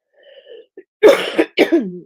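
Several sharp coughs from an adult woman, close and loud, following a softer throat-clearing hum, with a short pause between two bursts.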